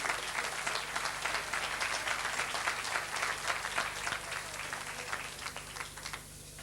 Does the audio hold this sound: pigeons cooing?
no